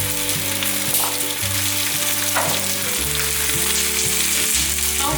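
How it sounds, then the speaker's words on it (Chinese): Zucchini, king oyster mushroom and purple sweet potato pan-frying in oil, a close, steady sizzle with soft stirring clatter and a low tonal hum running underneath. "中小火慢慢的煎，把两面煎至变色"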